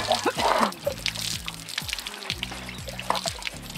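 Water rinsing soap off the underside of a horse's belly, a splashing pour under steady low rumbling background noise, with no talk.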